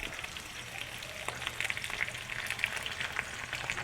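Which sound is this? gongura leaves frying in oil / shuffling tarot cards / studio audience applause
gongura leaves frying in oil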